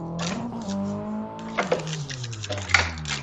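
A Nissan S13 in a racing video game revs hard and bounces off the rev limiter, its engine note climbing and holding, then stuttering and dropping in pitch over a few seconds.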